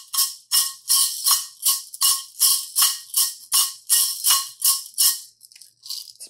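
A homemade tin can maraca on a stick, shaken in a steady rhythm of about a dozen crisp, bright rattling bursts, close and loud, with a few lighter, looser shakes at the end.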